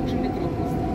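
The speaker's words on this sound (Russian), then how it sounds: "Вот метро. Мы в женском вагоне сидим" Inside a Dubai metro carriage while riding, a continuous low rumble of the moving train with steady rolling noise.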